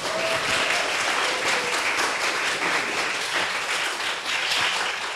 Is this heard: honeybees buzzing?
no